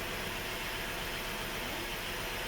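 A Holden VX Calais engine idles steadily at close range, a constant low rumble with broadband hiss and no talking over it.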